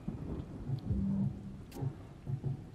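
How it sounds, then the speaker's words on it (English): A lightning strike in the Othercide video game sets off a loud, rumbling thunder crash with a rain-like wash and a few deep thuds, heard alone without any talking. "Lightning strike."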